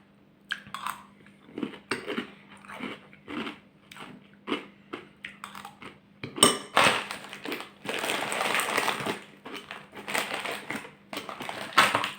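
Repeated crunching of hard, dry Flint croutons with sour cream and herb flavour being chewed close up, a steady series of sharp crackly bites with brief pauses between them.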